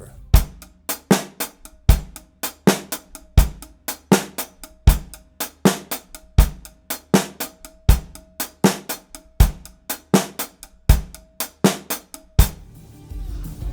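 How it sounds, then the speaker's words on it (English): A drum kit plays a steady triplet groove, with the hi-hat hand accenting every other triplet over regular kick and snare hits. The strokes are crisp and evenly spaced, played alone with no talk. "We're going to take the hi-hat hand and start accenting every other triplet."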